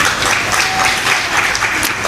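An audience claps in a brief, dense burst of applause that continues evenly throughout.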